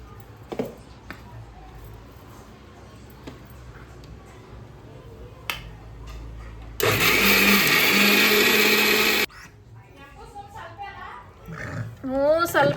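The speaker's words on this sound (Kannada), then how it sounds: "ಇಷ್ಟು ನೀರು ಹಾಕ್ಕೊಂಡು ಆಯ್ತು ಸಣ್ಣಾಗಿ ರುಬ್ಕೋಬೇಕು" A kitchen mixer grinder whirs loudly for about two and a half seconds while grinding soaked rice with water into dosa batter, starting and stopping abruptly between stretches of quieter talk and handling sounds.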